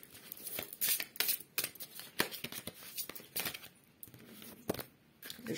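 A deck of unicorn oracle cards is shuffled and a card drawn: quick papery riffles, slaps and crisp flicks close up, irregular and fairly quiet, with faint talk mixed in.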